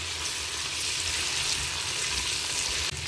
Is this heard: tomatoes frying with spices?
yes